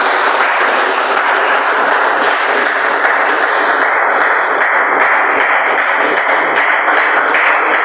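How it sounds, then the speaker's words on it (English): An audience at a Toastmasters club meeting claps to welcome a speaker, giving a steady, dense round of applause that stays loud and even throughout with no voices over it. "Please, with a huge round of applause, help me welcome Toastmaster Nitish."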